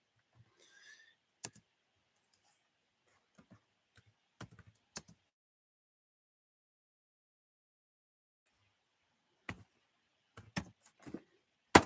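Sparse computer keyboard typing in a quiet room: scattered single clicks and short bursts of keystrokes, with a long pause before a final quick flurry, close and crisp.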